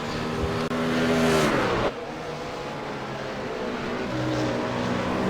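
Race cars, a McLaren and a BMW, at Road America, engines revving hard and rising in pitch as they pass close, a sharp gear change, then a steady drone continuing.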